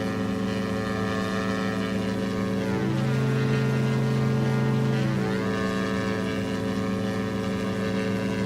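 A steady propeller drone from an Aero Bask DA62 twin in X-Plane 11 hums loud and close without pause, its pitch dipping and rising midway as power is brought back after takeoff.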